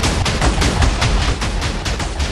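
Rapid gunfire from a video game set in frozen ice lands against lava lands, loud and continuous bursts of shots running the whole time with no voice over them.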